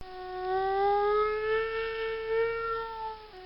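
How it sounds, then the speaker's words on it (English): A Chicago tornado warning siren wails in a long, steady rising-and-falling tone lasting several seconds, distant and moderately loud, alone without talk. "Tornado sirens go off when we're put into a tornado warning"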